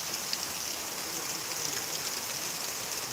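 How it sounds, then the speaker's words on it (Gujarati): Heavy rain driven by wind during a village storm, a steady soft hiss of downpour on surfaces, even and unbroken throughout with no voices. "આજ તો બહુ અતિથી અતિ ભારે વરસાદ છે કારણ કે પવન સાથે છે"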